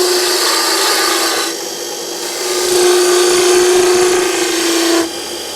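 A skew chisel on a wood lathe cuts with a steady, close, whirring hiss, easing off briefly in the middle and again near the end.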